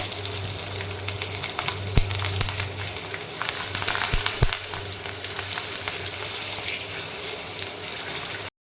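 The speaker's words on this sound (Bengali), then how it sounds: "আমি লঙ্কাগুলো এই তেলের মধ্যে ফ্রাই করে নেব" Chillies frying in hot oil give a continuous, even sizzle with a low background hum and a couple of brief knocks, heard alone without talk before cutting off at the end.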